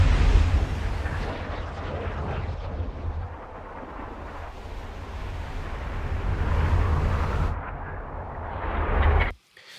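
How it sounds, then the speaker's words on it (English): Airy whooshes of a trebuchet projectile in flight from the medieval game Kingdom Come: Deliverance 2, a loud, continuous rushing roar swelling and fading over several seconds before cutting off abruptly. "some whooshes and flying of the projectile."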